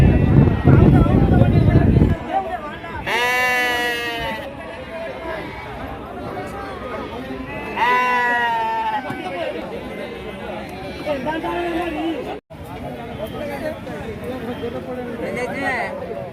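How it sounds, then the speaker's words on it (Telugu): Goats and sheep bleat in two loud, wavering calls amid a busy village livestock market, with crowd chatter and wind noise throughout. "ఈరోజు సంతకు భారీగానే మేకలు గొర్రెలు వచ్చాయండి"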